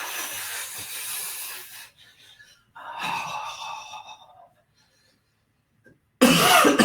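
During a shaking exercise in a shiatsu and energy work class, a person coughs in a loud, rough burst, falls quiet, coughs again more raspingly, then gives a final strong breathy burst after a silent pause.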